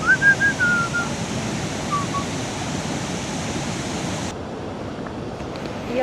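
A roadside waterfall between Dirang and Tawang makes a broad, steady rushing roar, with a few faint whistling tones early on.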